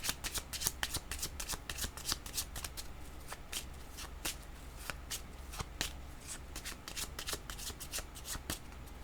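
A deck of cards shuffled for a card reading, with quick riffling snaps in an irregular rhythm, close and fairly soft, and no voices.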